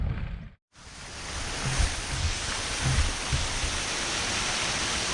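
Water rushes over a dam at a heritage sawmill park in Kinmount, Ontario, a loud, constant broadband roar that fills the whole scene after a brief dropout, with no speech.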